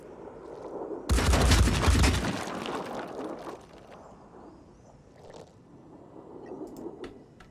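Grenade blast and gunfire in the tactical video game Phoenix Point: a sudden loud, dense burst of explosion and rapid shots lasting about a second, then fading into a rumbling tail and quieter ambient battle noise.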